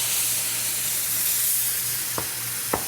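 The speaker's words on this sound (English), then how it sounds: "you want to pour some of that port wine on them" Port wine poured onto searing filet mignon in a hot pan, a steady broadband sizzle and steam hiss running throughout with a low hum beneath, plus two brief sharp crackles near the end.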